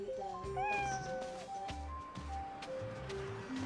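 A cat meows several times in a row, clear and close, with rising and falling cries over a low rhythmic game music background in Monopoly.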